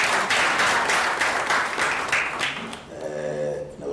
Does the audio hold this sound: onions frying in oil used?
no